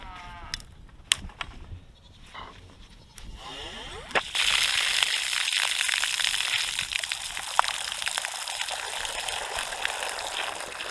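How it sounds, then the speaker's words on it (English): Fresh water is poured for chickens on a winter farm, a steady splashing rush that starts after a few seconds of scattered knocks and farm-animal bleats, continuing loud and close to the end. "Just some fresh water for the chickens."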